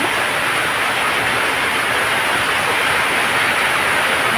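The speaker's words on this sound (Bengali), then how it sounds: "আর এই যে বৃষ্টির শব্দ শুনতেই পাচ্ছ" Rain falling hard outdoors, a loud unbroken wash of hiss that stays even and close throughout, with no voices.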